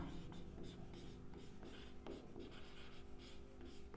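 Pen or marker writing out a 3D geometry line equation problem for a Class 12 maths lesson, a steady soft scratching that runs continuously and close by for the whole stretch.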